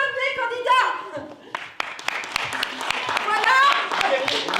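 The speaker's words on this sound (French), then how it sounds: "S'il vous plaît, à l'applaudimètre pour le premier candidat." Audience applause for an improv contestant, a dense patter of clapping building through the room, with a voice and some musical tones layered over the start.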